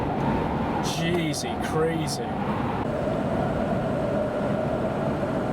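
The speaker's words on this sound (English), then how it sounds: "We're headed into a really strong southerly wind right now, so the truck is fighting that" Steady broadband roar of strong southerly wind, gusting to 90 km/h, buffeting a moving truck in British Columbia, constant and close, with a brief stretch of talk early on.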